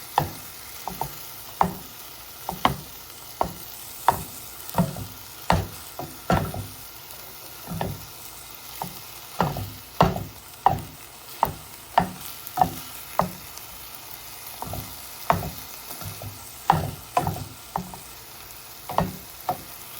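Ground meat for a cottage pie browning in a pan, broken up alongside earlier-cooked mushroom bits, with a steady sizzle and regular scraping stirs of the spoon roughly every second, close and clear with no talking.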